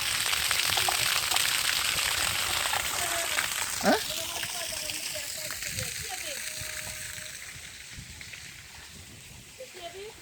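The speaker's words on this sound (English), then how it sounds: "Look at the volume of water that come out of a natural tree." Water gushing out of a natural tree trunk in Jamaica, a steady hissing, splashing rush close by, with a person talking briefly over the flow.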